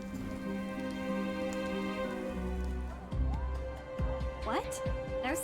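Rain falls steadily in the Nancy Drew: Midnight in Salem video game, a constant patter under background music, with short speech-like sounds near the end.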